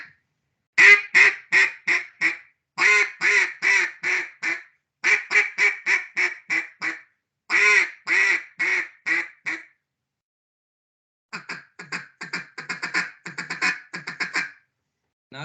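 Duck call blown to imitate a duck feeding call for East Coast waterfowl calling: rapid, rhythmic bursts of quacking notes in several fast runs with short pauses, loud and close, no talking.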